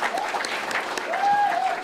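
An audience claps for a speaker, the chamber of commerce chairman, at a talk concert on an independence movement memorial hall, a dense burst of applause filling the short span with a voice over it.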